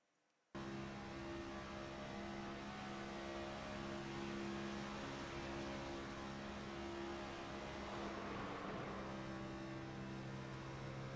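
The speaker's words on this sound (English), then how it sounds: "Let's ride along from the cockpit of the 24 of Tristan Bailey, and we'll have a listen." Race car engine roaring steadily from inside the cockpit of the number 24 car on the final lap at Talladega Superspeedway, a loud continuous drone with a strong sustained tone that shifts slightly late, heard alone without talk.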